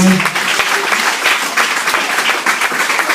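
A congregation at a French-language sermon claps together in sustained applause of steady, dense hand claps with a few sharper beats, filling the room without a break for its three seconds.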